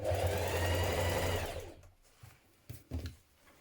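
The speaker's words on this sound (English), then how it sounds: "you're going to understitch just within that seam line, catching the seam to the pocket, 3mm away from the edge" A sewing machine runs steadily, understitching a trouser pocket seam 3mm from the edge, then stops, leaving a few quiet handling clicks.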